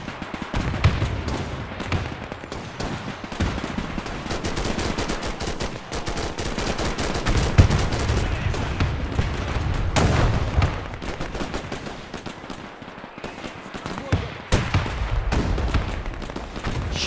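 A battle in the war game Men of War II erupts with constant gunfire: rapid machine-gun bursts and rifle shots crackle densely throughout, with heavier thumps mixed in and no voices.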